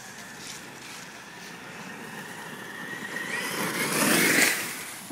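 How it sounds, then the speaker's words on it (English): A brushless Traxxas E-Revo RC car on a 4S LiPo whines as it drifts a corner. The motor pitch climbs and grows louder to a peak near the end, then drops away. "I'm gonna try and drift this corner right here"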